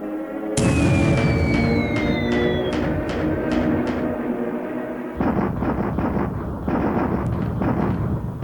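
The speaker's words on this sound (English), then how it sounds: "Now they make their strike, and at least I have some flak." Anti-aircraft flak fire in the War in the Pacific video game during a dive bomber strike: a steady stream of sharp booming bursts over a low rumble, with a few falling whistle tones early on.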